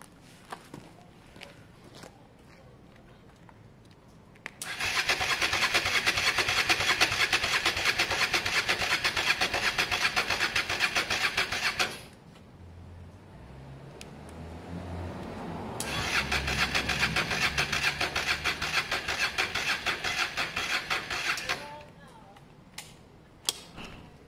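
A Honda Varadero 125 motorcycle with a weak, dying battery cranks in two long bursts of a few seconds each, loud and close, with a pause between them and a low sputtering in the gap. No ignition catches.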